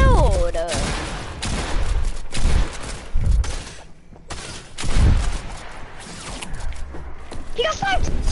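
Sniper fire in a Fortnite match rings out as a few sharp, fairly loud reports spread through a busy stretch of game action, with voices talking over much of it.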